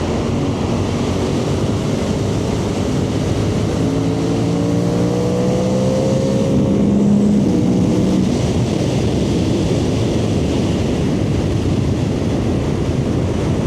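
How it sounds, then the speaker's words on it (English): A Suzuki GSX-8R motorcycle rides along an open road with a constant loud rush of wind and road noise, as the engine note briefly rises and shifts through a downshift and pull before settling back under the roar. "I'm going to downshift just because."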